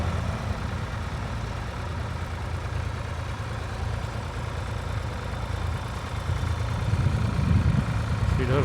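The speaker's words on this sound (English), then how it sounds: "She does look a nice little tractor." A small old 4000 tractor on Kleber tyres at a ploughing match, its engine running with a steady low rumble throughout that grows slightly louder and rougher toward the end, with faint talk in the background.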